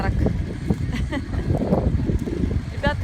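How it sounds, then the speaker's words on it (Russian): Strong, gusty wind buffeting the microphone outdoors, rough loud rumbling bursts throughout, with brief voices breaking through. "ветер ужасный"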